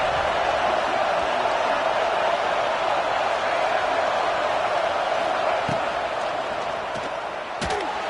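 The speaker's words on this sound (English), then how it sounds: "This crowd ready to make its presence known." Crowd noise fills a college basketball arena during a Big 12 conference game, a steady, dense roar of cheering that holds loud throughout, with a sharp slam or bounce near the end.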